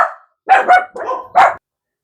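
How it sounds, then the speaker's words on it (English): Several dogs bark in short, loud bursts close by, four distinct barks spread over two seconds with brief pauses between them and no talking. "My dogs are driving me up the wall today."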